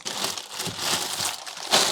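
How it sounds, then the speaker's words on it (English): A plastic bag crinkles and rustles continuously up close, with a sharper crackling burst near the end. "And another plastic bag."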